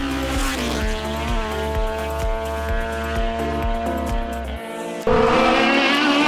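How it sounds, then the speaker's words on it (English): A modified Honda Civic rally car at the Sol Rally Barbados 2020 is driven flat out, its engine revving hard through repeated gear changes, loud and close. A brief dip is followed by an abrupt, louder roar as the car passes. "would be Jermaine Pope and Aaron Curtin in their modified 1 Honda Civic, which had been driven full tilt for most of the day"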